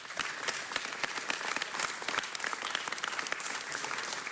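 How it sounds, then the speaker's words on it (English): Sustained applause at a city council meeting for school staff: a crowd claps steadily and fairly loudly from start to finish, with no talking over it. "Let's give them a round of applause"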